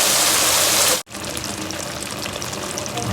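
Water poured into a cooking pot of kachnar (mountain ebony buds) with chicken: a loud, broad hissing rush that cuts off abruptly, then a softer steady sizzle and bubbling continues alone.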